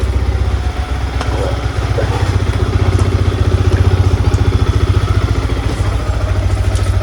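Motorcycle engine idling to warm up: a close, loud, steady low throb with rapid regular pulsing and some mechanical clatter, running continuously.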